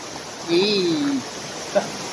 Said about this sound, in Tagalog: Ayan na yung falls mga Lodi, oh.